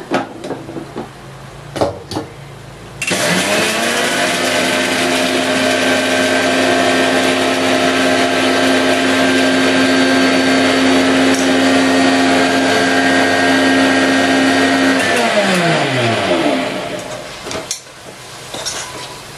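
A mixer grinder whirs for about twelve seconds, grinding spices into powder, a loud, steady, high-pitched motor whine that starts abruptly and winds down at the end, with brief handling clatter before and after.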